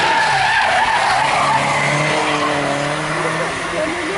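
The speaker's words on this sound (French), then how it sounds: "C'est maintenant au tour de Simon Lalarme de s'élancer pour cette quatrième montée de la journée à bord de sa Golf GTI de 1982 pour Simon Lalarme." A 1982 Golf GTI race car launches up a historic hill climb course, its engine revving hard with loud tire squeal and skidding, continuous and close, with a voice talking over it.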